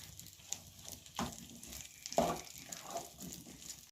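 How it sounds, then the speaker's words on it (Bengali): Fried vegetables hit hot tempering oil with cloves and crackle in a faint, close sizzle, broken by a few sharp clatters of a spoon against the pan. "ফোড়নের মধ্যে তো দিয়ে দিলাম সবজি।"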